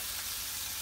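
Ground chana dal frying in a pan while being stirred, giving a continuous soft sizzle with faint scraping, close and steady with no talking.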